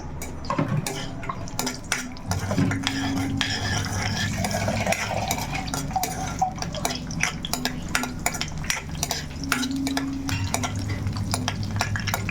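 Green chillies fry in oil that is still warming in a pan, a steady soft sizzle running under frequent clinks and scrapes of a spoon against metal, close up and without voices.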